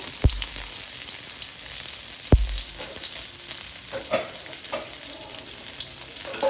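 Oil sizzles and crackles steadily as garlic and chili fry in a hot pan, with two sharp clanks of a utensil against the pan near the start.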